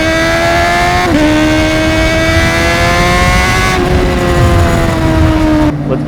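Motorcycle engine droning steadily and loud throughout a ride on Croatian roads, its pitch rising and falling as the bike accelerates and eases off, with wind noise over the top.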